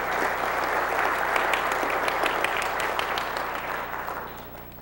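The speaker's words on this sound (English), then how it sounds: "let's give Phil a great big round of applause" Sustained applause from a conference audience at a Black Hat USA 2005 talk, a dense, steady wash of many hands clapping that holds for several seconds before tapering slightly at the end.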